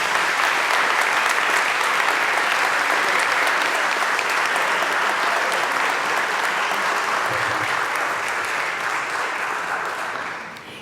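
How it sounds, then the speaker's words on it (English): A live audience applauds steadily and loudly for about ten seconds, a dense even wash of clapping that tapers slightly at the very end. "Please give him a round of applause."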